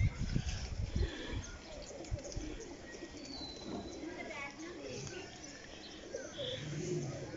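Pigeons coo softly in a village pigeon loft in the evening, low murmuring calls spread through the scene under a voice, with some handling bumps early on.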